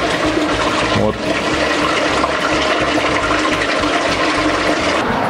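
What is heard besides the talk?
water filling a 100-litre brewing tank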